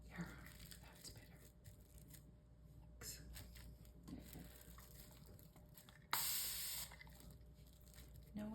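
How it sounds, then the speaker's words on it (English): A spray bottle mists mineral watercolour paper during botanical pressing work: one sharp, close hissing spray burst stands out after quiet handling noises. "I think I need a little bit of spray"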